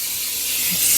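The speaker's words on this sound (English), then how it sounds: "Spray it down in your pan real good." Butter spray hisses steadily from a can into a pan while a key lime cheesecake is being prepared, a close, continuous spray that grows slightly louder near the end.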